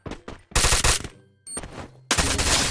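Gunfire in the Free Fire battle-royale video game, a quick string of loud close bursts and rattling shots with brief pauses between volleys, ending in a sustained heavy burst.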